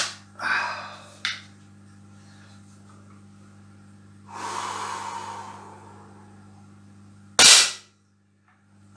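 Single sharp air rifle shot firing a brass-tipped HN pellet at full power, a loud crack near the end that stands out against quiet room hiss and faint breathing noises.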